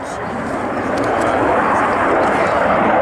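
Engines of a MiG-29 fighter jet accelerating out of a loop during an air display at Yeovilton Air Day, a loud, steady broadband roar that fills the whole stretch without a break.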